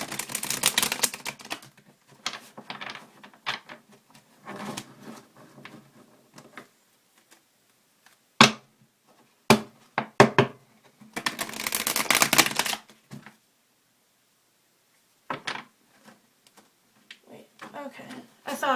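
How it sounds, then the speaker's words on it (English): Tarot cards being shuffled by hand in bursts of crisp riffling and tapping, with pauses and a few sharp knocks in between, close and fairly quiet. "I'm gonna get started and shuffle these cards"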